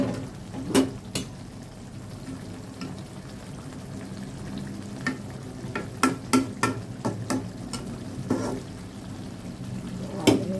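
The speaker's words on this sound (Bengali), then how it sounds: "চুলায় তো ওই যে মাংসটা কষানো হচ্ছে আলু দিয়ে দিছি" Meat with potatoes frying in a pot on a stove, a low continuous sizzle broken by repeated sharp clinks and scrapes of a spoon against the pan.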